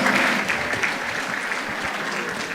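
An audience gives a panel discussion a brief, steady round of applause, the dense clapping fading slightly toward the end.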